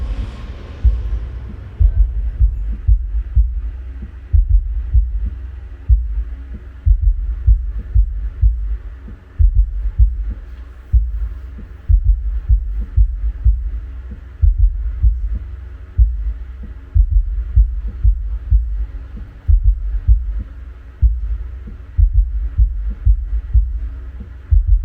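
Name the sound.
active subwoofer playing bass sound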